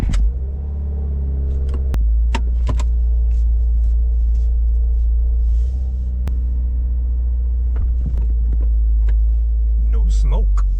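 A Subaru WRX bought at auction runs steadily while driving, a loud, constant low engine drone and road rumble close in the cabin, with brief knocks and a voice talking toward the end.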